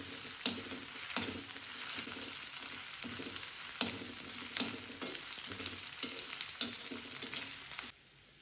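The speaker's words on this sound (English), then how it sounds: "Once onion fried, add 1 tablespoon of ginger garlic paste." Ginger garlic paste frying with fried onions for a village-style bottle gourd and gram dal curry, a steady close sizzle broken by regular scraping stirs, cutting off abruptly at the end.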